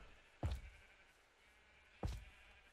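Two loud, close sheep bleats in the Minecraft video game, spaced about a second and a half apart, over quiet background noise.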